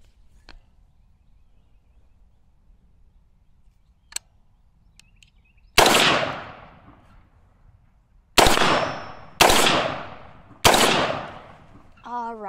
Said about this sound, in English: let's get into the shooting portion now